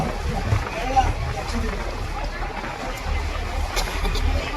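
A boat trip on open water, with a steady low engine rumble and soft sloshing of water against the hull, under continuous chatter from passengers on board.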